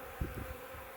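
Honey bees buzzing at a spring feeding spot, a steady dense hum of many insects close by, with no talking.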